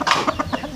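A chicken clucks close by in a series of quick, loud, evenly spaced clucks, short and sharp, with no voices over them.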